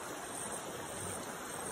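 Water flows and rushes steadily inside a cave, a continuous, fairly faint wash of noise that holds even throughout with no voices.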